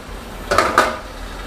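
Two quick metallic clanks, close and brief, as a sea bass is set into a steamer pot over boiling water in otherwise quiet surroundings.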